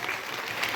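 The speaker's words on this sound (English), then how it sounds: "Give a big round of applause to her." Brief burst of crowd applause at a school results celebration honouring the top-ranked student, steady and dense clapping throughout, fairly close.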